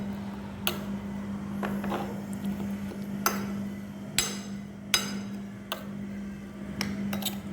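Kanthari chili chutney ingredients are crushed and mixed, giving sharp, separate pounding knocks at an uneven pace, about eight strikes close by over a low steady hum.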